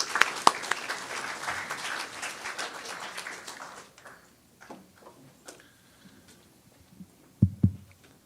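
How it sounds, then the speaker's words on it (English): An audience at a Tibetan Parliament event claps for the drafting committee, starting as a dense burst that thins to scattered claps and fades to near silence, with a few heavy knocks near the end. "Please give a round of applause to the drafting committee and Professor Michael."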